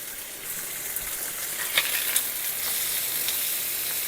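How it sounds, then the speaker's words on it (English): Food simmering and sizzling steadily in a pan, a soft continuous crackle with a few faint clinks, close and moderately quiet with no talking. "we're going to let those simmer for a minute"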